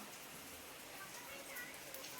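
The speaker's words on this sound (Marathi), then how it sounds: "एवढा जोराचा पाऊस येतोय" Heavy monsoon rain pours steadily around a building whose ceiling is leaking, a dense continuous hiss with water dripping, close and even throughout with no pauses.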